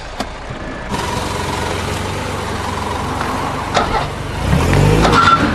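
A car engine during a driving lesson hums steadily at close range, then revs up louder and rougher near the end, with no talking.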